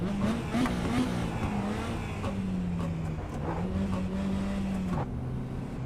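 A race car engine held at full throttle in a racing video game, a steady loud drone with slight pitch rises and falls as it holds speed, continuous throughout.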